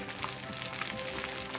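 Bacon sizzles and fries in a pan over medium heat, a steady, dense crackle with bright spitting pops throughout, close and unbroken, with no voices.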